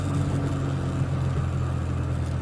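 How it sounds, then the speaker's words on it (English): Steady low exhaust drone from a modified Classic Mini Cooper fitted with a Works kit, running at around 60 mph; a continuous, even rumble with no talk over it. "I love the sound of the exhaust"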